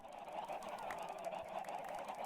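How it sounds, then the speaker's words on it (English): Minecraft chickens cluck softly and intermittently in a low, steady game soundscape, with a brief louder burst at the very end. "Look at all those chickens."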